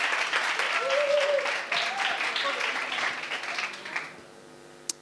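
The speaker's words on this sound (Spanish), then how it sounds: "podéis aplaudir si queréis a vosotros mismos porque sois unos cracks" Students at a design school event in Madrid applaud themselves in a dense, steady burst that fades out after about four seconds, with a voice speaking over the clapping.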